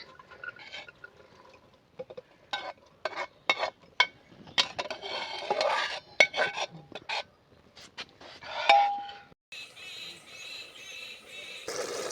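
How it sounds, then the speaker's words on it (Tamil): Green peas biryani ingredients tipped from a pan into a pressure cooker and stirred: irregular close scrapes, knocks and wet slides of food against metal, ending in a steady hiss. "இப்போ வாங்க நம்ம குக்கரில் கொட்டிக்கலாம்"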